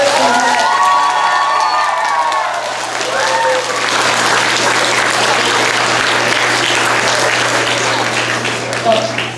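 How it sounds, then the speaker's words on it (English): An elementary school audience of children, teachers and parents applauds a geography bee winner, loud sustained clapping mixed with cheering and children's shouts and voices throughout. "let's give her a big round of applause to encourage her"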